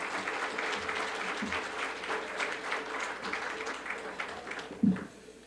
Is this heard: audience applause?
yes